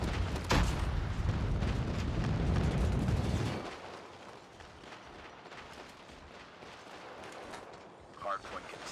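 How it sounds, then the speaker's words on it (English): Airstrike explosions in Call of Duty Mobile during a Hardpoint match on Hacienda, a heavy rolling boom and rumble that fills the first few seconds before fading into quieter gunfire and game noise. "Enemy airstrike incoming."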